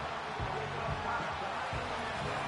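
A football stadium crowd roars during an NFL game as third down approaches, a broad, steady wash of distant cheering running continuously beneath a commentator's voice.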